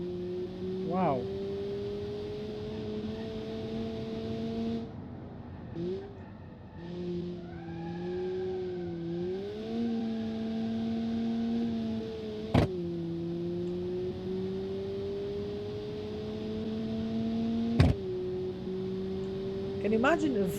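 A four-cylinder front-wheel-drive car with an open differential in the Automation game: the engine drones steadily and its pitch climbs, then drops sharply at each upshift, with sharp transient cracks at two points.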